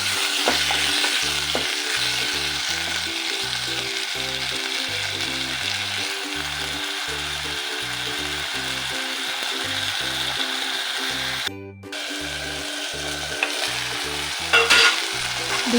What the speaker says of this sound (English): I added my tomatoes in them to start frying them together